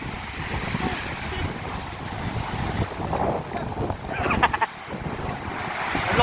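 Overflowing water rushes over rocks in a steady, loud roar mixed with wind buffeting the microphone, as voices speak briefly over it.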